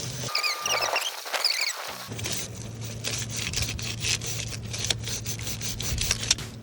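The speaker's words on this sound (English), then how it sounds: "I even like to scrub it a little bit in as many places as possible." A motorcycle chain is scrubbed clean with a brush in quick, rough back-and-forth strokes, close and continuous after a brief quieter start.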